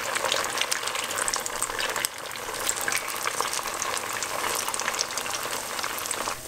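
Steady, dense sizzling of sabudana and potato vadas frying in hot oil in a pan, crackling evenly throughout with a brief dip partway, close and fairly loud.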